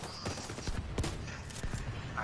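Gunfire in the open-world shooter The Division 2, scattered shots and short bursts of moderate loudness over a steady background of game ambience.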